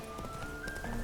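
Roach the horse gallops in The Witcher 3, a steady run of clip-clopping hooves under a dense game soundscape, with a brief shouted voice nearby.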